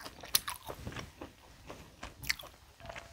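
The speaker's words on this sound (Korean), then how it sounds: "뼈채로 뜯는 게 제일 맛있다." Close, quiet eating sounds of tomahawk steak meat being torn and chewed off the bone, with irregular wet chewing and a couple of sharper biting crunches, no talking.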